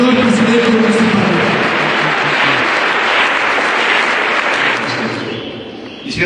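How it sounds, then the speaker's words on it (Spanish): An audience applauds the municipal president at a school funding event for a breakfast hall, a loud, dense wash of clapping that holds steady for several seconds before thinning out. "Para ello les pido un aplauso al señor presidente municipal."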